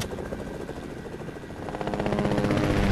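Aircraft engine droning overhead in the video game Fortnite, a steady loud buzzing whir that swells slightly toward the end, with no talk over it.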